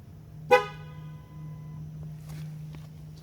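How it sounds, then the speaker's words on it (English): A single short Ford car horn honk sounds out clearly over a low, steady engine hum, then fades away, during a TPMS sensor reset. "touch the button, horn honks"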